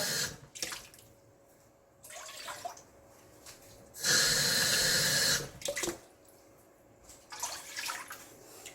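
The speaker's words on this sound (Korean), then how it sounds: "그리고 물 두 컵 넣고요" Water pours from a cup into a pot for sweet and sour pork, a broad rushing splash lasting over a second, set among quieter handling noises and other brief bursts of liquid.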